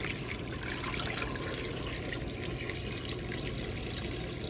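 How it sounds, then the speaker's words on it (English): Water pours from a tap into a pot over beef bones and spare ribs for phở bò. The stream rushes and splashes steadily at close range with no break and no voices. "So we'll cover it all with water."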